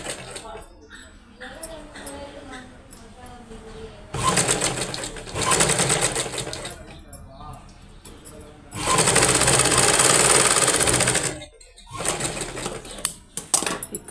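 A sewing machine stitches a blouse in two sustained loud bursts of rapid, even whirring, with shorter runs between them and someone talking over the quieter stretches.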